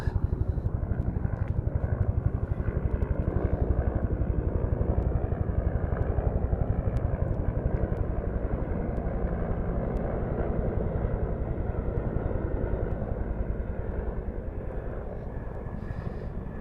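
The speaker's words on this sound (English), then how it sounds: "Judging by the sounds, it sounds like a Huey." A loud, steady Huey military helicopter engine roar with a low rotor thump persists throughout, easing slightly toward the end as it passes overhead near the Jefferson Memorial.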